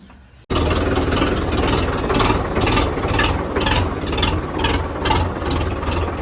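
A tractor with worn rear tyres starts up after a brief pause and runs steadily with a deep, rhythmic throb, loud and close, with no voices.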